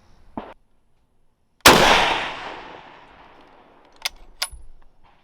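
A single loud shot from a .30-40 Krag rifle on an outdoor range cracks sharply and rolls away in a long fading echo, with faint clicks and small knocks before and after it.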